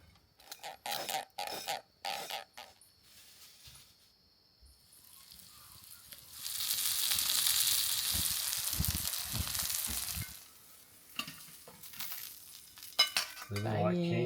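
Coated silver bream fillets from the McArthur River in the Northern Territory sizzle steadily in a pan at a riverside camp, preceded and followed by clinks and scrapes of utensils; no voices.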